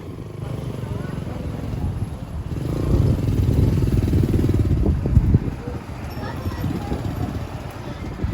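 A motor tricycle's small engine rumbles steadily throughout, a low continuous drone with some clatter, while voices talk faintly under it, in Boracay.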